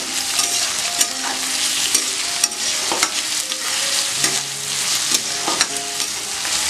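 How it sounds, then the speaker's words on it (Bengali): Onions frying with a steady, close sizzle in a pan, salted, while a spatula stirs them in repeated scraping strokes over the continuous crackle. "আমি পেঁয়াজটা একটু নাড়াচাড়া দিয়ে ভেজে নিচ্ছি।"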